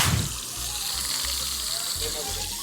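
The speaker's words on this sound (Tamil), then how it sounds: "அதான் ஃப்ரை ஆகிட்டு இருக்கு." Fish fries in oil on an outdoor stove, with a continuous loud bubbling sizzle and low rumbling pops. Muffled voices sound faintly in the background.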